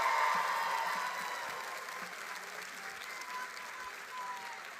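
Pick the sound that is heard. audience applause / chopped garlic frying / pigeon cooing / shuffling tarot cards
audience applause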